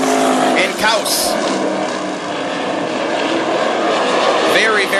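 Sprint cars roar past at North Central Speedway during a short six-lap UMSS heat race, a loud continuous engine drone with rising and falling passes and a commentator talking over it.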